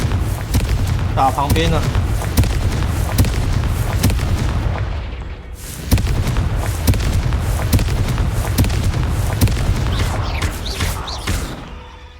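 Repeated Confringo fire-spell explosions in Hogwarts Legacy, a run of loud booming blasts and thumps with a brief lull midway, while a player chats over the action.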